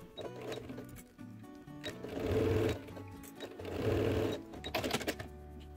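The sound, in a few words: sewing machine stitching plastic pocket seam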